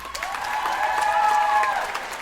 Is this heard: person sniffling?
no